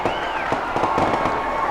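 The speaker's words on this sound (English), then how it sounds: "The fireworks go off across the way" Fireworks bursting across the way at a night high school football game, a steady dense crackle and boom carried over a noisy crowd with distant voices.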